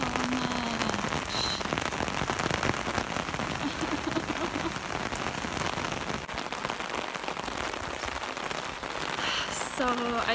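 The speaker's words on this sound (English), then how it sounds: "It's raining so much." Heavy rain pours steadily, a dense continuous hiss of drops hitting surfaces, loud and close throughout.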